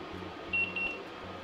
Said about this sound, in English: I'm going to start both of my timers.